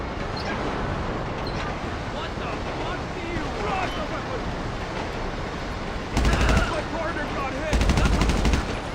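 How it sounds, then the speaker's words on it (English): Gunfire from a Special Carbine Mark II loaded with armor-piercing rounds in GTA Online, heard as two loud bursts of rapid automatic shots toward the end, over a dense, noisy game background. "It's the Special Carbine Mark II with armor-piercing rounds."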